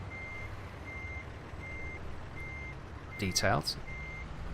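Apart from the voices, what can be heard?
truck reversing beeps in American Truck Simulator video game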